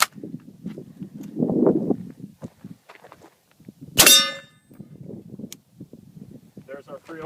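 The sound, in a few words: 308 rifle shot hitting a steel armor plate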